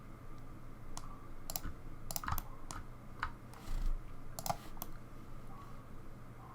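Computer keyboard keys pressed in scattered single taps and short bursts while modelling a low-poly car in 3D software, crisp clicks close to the mic over a quiet room hum.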